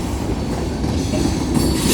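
A long Union Pacific manifest freight train of around a hundred or more cars rolls past at Central Avenue, a steady loud rumble of wheels and railcars throughout, growing slightly louder toward the end.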